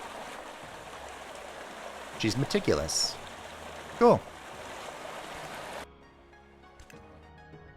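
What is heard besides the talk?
loud flowing water in the video game My Lovely Empress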